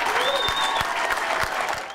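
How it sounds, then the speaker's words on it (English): Nearly a hundred airport workers from Newark, LaGuardia and Kennedy applaud and cheer in a dense, continuous burst of clapping that tapers slightly at the end. "Nearly 100 airport workers from Newark, LaGuardia, and Kennedy erupted in cheer"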